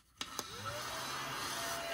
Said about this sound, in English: We're gonna vacuum up those pieces.